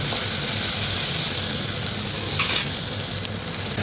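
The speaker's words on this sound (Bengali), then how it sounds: "নুন হলুদ দিয়ে আমি লতিটাকে ভালো করে ভাজা করে নিচ্ছি" Taro stolons frying in a pan with salt and turmeric, a steady close sizzle running throughout with a brief louder spit near the middle.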